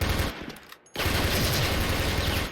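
Sustained automatic fire from an AUG rifle in the online shooter Special Force, loud and dense across the whole stretch, with a short gap near the start before the burst resumes continuously.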